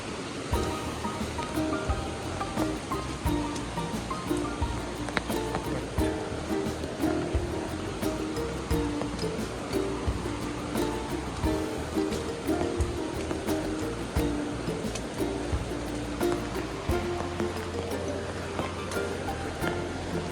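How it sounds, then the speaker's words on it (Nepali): A large mountain stream on the road to Ilam, Nepal, roars steadily as a broad, continuous rush of water, with a low rumble beneath, sustained and close throughout. "खोला ठुलै रहेछ"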